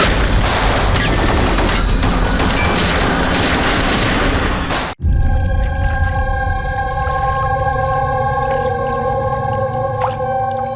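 Gunfire from guns in a tense action scene on an island, a dense roar of blasts and rattling shots for several seconds, then an abrupt cut to steady droning tones with scattered faint bangs.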